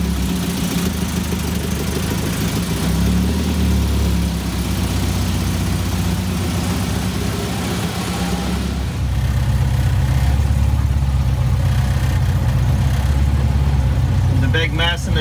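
A Shorrock supercharged Austin-Healey Sprite engine runs steadily at a low, rough idle inside a shop, with a loud, constant mechanical rumble that thickens slightly partway through.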